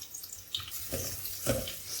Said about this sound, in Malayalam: ഞാനിവിടെ കുറച്ച് തേങ്ങയാണ് ഇപ്പോൾ വറക്കുന്നത്